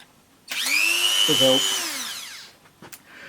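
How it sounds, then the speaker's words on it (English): A Dremel rotary tool spins up with a high whine and grinds briefly against a bicycle part for rear wheel fitment, then winds down, followed by a couple of small knocks. "So I'm just going to grind some off to make sure that it slides in easy"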